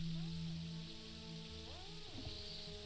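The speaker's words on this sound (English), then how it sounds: "God, this rain, dude." Steady hiss of rain falls in the video game Terraria, a dense broadband wash with a few clicking tones and sliding synth notes from the game layered over it, no talking.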